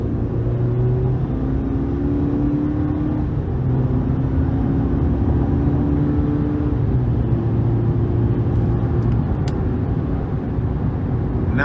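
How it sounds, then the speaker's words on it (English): A 2023 GMC Sierra 1500 pickup with the 2.7-liter turbo four-cylinder and four-wheel drive pulls hard under throttle, its steady engine drone rising and shifting in pitch through the gears, heard from the cabin with no talking. "Let's give it some throttle here."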